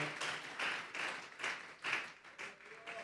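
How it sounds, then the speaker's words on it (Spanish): A church congregation gives a round of applause, with rhythmic waves of clapping that rise and fall every half second or so, moderately faint and fairly close. "Démosle una ofrenda de palmas a Dios en esta hora"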